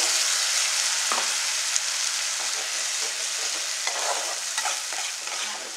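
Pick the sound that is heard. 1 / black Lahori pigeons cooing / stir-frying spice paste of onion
stir-frying spice paste of onion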